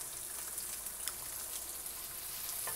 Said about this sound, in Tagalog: Naglagay na tayo ng mantika doon sa ating kawali upang mag-umpisa natin pagluluto ng ating chop suey